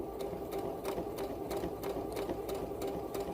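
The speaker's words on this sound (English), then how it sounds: "doing the exact same thing and sewing along that line" A sewing machine stitching along a seam runs in a quiet, steady rhythm, its needle clicking in rapid even beats over a soft motor hum, close and alone.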